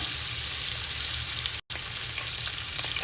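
Bacon and kielbasa fry steadily in a pan, giving a dense, continuous close sizzle and crackle that drops out for an instant before resuming, with no voices.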